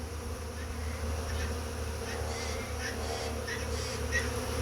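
Bees buzz around their hive boxes among soursop and eucalyptus trees, a dense steady hum with individual insects droning past close to the listener, no voices.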